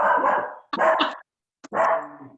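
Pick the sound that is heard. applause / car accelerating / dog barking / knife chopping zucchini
dog barking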